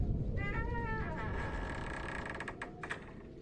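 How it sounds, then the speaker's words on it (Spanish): A wardrobe door in a grandfather's bedroom creaks open at night, a drawn-out, wavering squeal that rises and falls over low background rumble, followed by faint knocks and clicks. "escucho que el ropero del cuarto de mi abuelo se abrió"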